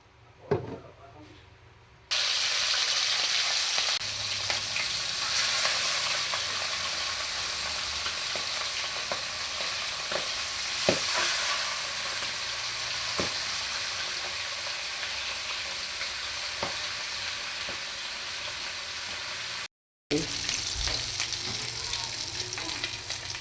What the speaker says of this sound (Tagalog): ipipirito muna natin ang ating isda.